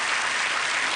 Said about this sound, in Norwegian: Ja, det fortjener en applaus.